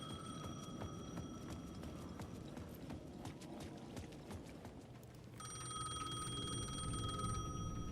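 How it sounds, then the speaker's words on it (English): A payphone rings at the edge of a plaza in the video game Alan Wake 2, with a thin repeating bell tone that swells louder partway through over a dense bed of ambient noise and clopping. "The payphone at the edge of the plaza was ringing again."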